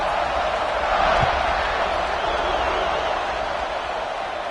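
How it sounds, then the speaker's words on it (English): A stadium crowd buzzes in a football video game, a continuous dense murmur of many voices blended into a steady broadband roar, with one faint thump early on. "this crowd is buzzing after that last score."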